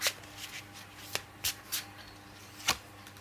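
Tarot cards are shuffled and drawn by hand, heard close as a soft riffling hiss with a few sharp slaps and flicks of cards spread irregularly over a few seconds.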